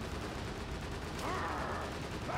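Gunfire in the Haze shooter game, a dense continuous crackle of shots over a noisy battle wash, with a brief sharp burst midway.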